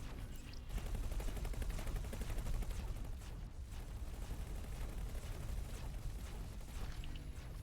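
Ship weapons firing on a target ship during a capture attempt in the space game X4, a faint, rapid, continuous crackling burst of shots throughout.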